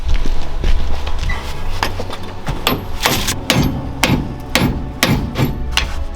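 Sharp metallic hammer blows strike a car axle on a Toyota MK2 Supra repeatedly at an irregular pace, loud and close, ringing against a steady low engine-like drone.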